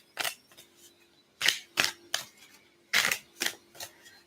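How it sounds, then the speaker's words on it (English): Several crisp, snappy riffling bursts of tarot cards being shuffled come in quick clusters with short pauses between, close by in a quiet room. "Sometimes you need to shuffle for a while also."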